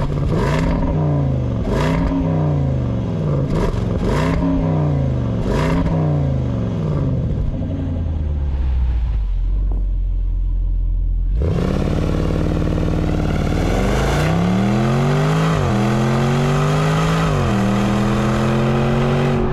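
A 2023 Land Rover Defender V8 Carpathian Edition starts up: repeated loud engine revs rise and fall, then a brief settle, then a stronger rev sweeping upward and holding a deep, throaty roar, close and loud.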